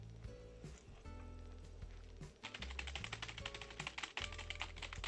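Someone types on a USB keyboard plugged into a Nintendo Switch, producing rapid, quiet key clicks in uneven bursts that grow busier and denser partway through, with no talking.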